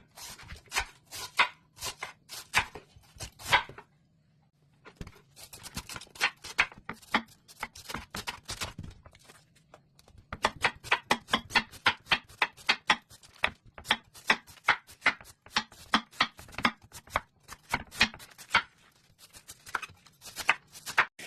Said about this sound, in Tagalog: Hiwain natin siya ng maliliit